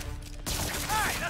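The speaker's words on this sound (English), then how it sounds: "And I get hit with a rocket launcher." A rocket launcher strike in Marvel's Spider-Man game, heard as a sudden loud explosive burst that sets off a sustained roar of blast noise, following a short stretch of quieter game sound.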